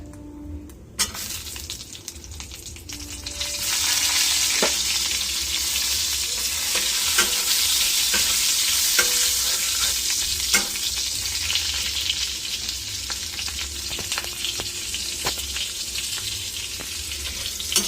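Green chillies frying in a pan, a loud, bright sizzle that swells after the first few seconds and holds steady, punctuated by occasional spoon clinks and scrapes, no talk.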